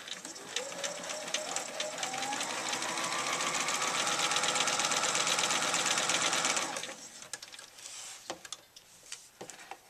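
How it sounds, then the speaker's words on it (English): A sewing machine stitches a diagonal seam across a quilt block, running as a loud, steady rapid hum for about seven seconds before stopping, followed by faint clicks and handling noises. "Take it over to the machine, and you will just sew on that diagonal line."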